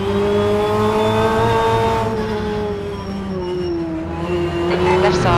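BTCC race car engine in rFactor2 at Oulton Park, a loud close-up drone that holds steady and then dips slightly as the revs ease and climb again, with tyre noise underneath.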